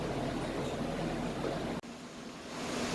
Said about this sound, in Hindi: गोश्त को हम उस वक्त तक इसमें भूनेंगे जब तक इसका कलर चेंज नहीं हो जाता।